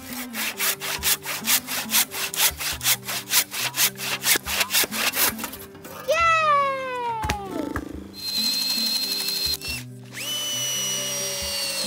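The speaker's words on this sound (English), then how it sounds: "the wood is literally too hard to cut through" Hand saw rasping through very hard wood during an off-grid home build, with steady rhythmic strokes up close that are loud and regular, then a louder scraping burst and shifting tonal squeals near the end.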